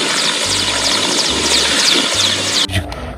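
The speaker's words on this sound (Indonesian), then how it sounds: "Wow, lihat helikopter teman-teman." A helicopter flies overhead as a loud, steady, continuous roar with a faint rhythmic chop, cut off abruptly near the end by a brief bump, with no talking.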